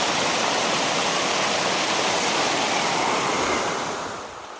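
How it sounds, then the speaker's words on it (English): Small waterfall on a river in Glacier National Park's Many Glacier area, a steady broadband rush of falling water, loud and close, easing slightly in the final second. "There's the first little waterfall we've encountered."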